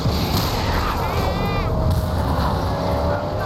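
Sniper fire in the post-apocalyptic game Mad Max booms over a continuous rumbling engine-like bed, with heavy low thuds that carry through the whole stretch.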